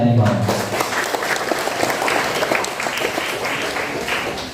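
Applause for the village of Air Limau at a village Waste Day commemoration in Bangka Barat, a dense, sustained round of clapping from a crowd that stays steady throughout.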